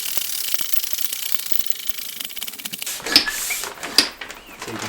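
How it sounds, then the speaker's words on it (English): A hand pump draws air out of a vacuum-sealable bag with rapid mechanical clicking and ratcheting strokes that build into louder squeaky pulls toward the end. "You put it on the vacuum sealable bag, and then you just pump and take all the air out."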